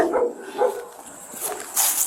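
A dog barks indoors during a police bodycam visit to a home, giving a few sharp, mid-loud barks spaced across a couple of seconds.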